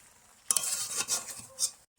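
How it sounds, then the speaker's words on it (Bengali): Mutton, potatoes and papaya with spices are stir-fried in a pot: after a quiet start come a short burst of sizzling and a few scraping stirs, then a stop. "মাংসের সঙ্গে মশলার সঙ্গে আলুটাকে ভালোভাবে কিছুক্ষণ আবার কষিয়ে নেব"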